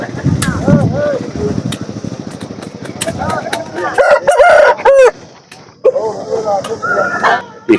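A tall Kaki Nemali rooster crows loudly and up close at a busy hen market, its long cock-a-doodle-doo rising over clucking fowl, crowd voices and a passing motorcycle.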